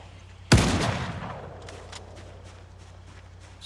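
A single loud gunshot from a firearm in the zombie survival game Project Zomboid, cracking sharply and then ringing out in a long decaying echo, followed by faint scuffing sounds.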